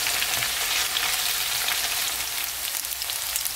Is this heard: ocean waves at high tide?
no